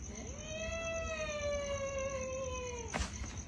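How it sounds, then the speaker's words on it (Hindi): A cat at night lets out one long, drawn-out, strange wavering meow, fairly loud and close, over a steady background hum, cut off by a short sharp noise at the end. "बिल्ली कैसी आवाज दे रही यार ये तो।"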